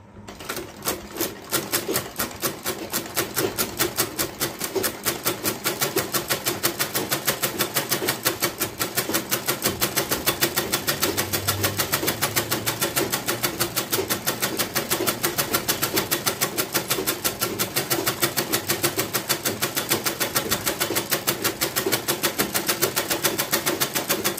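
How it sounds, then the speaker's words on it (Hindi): A sewing machine runs a double seam on a shirt, its needle clattering in a fast, even rhythm that stays loud and continuous throughout with no talking. "इस तरह से हम दोबारा फिर डबल सिलाई लगाएंगे, दूसरी तरफ भी हम सिलाई लगा लेंगे।"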